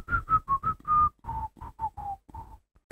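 A person whistles a casual, offhand tune in a string of short, bright notes, then a few lower, slightly longer ones, near and unaccompanied.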